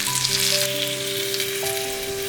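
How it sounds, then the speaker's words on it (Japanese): Chicken thighs laid skin side down in a generous film of hot oil over medium heat, shallow-frying with a steady, dense sizzle and crackle throughout, fairly loud and close, with no talking. "鶏もも肉の皮目を下にして並べ中火で炒めます。"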